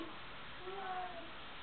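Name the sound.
child imitating a cat's meow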